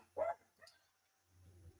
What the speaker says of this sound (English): my dog is driving me nuts.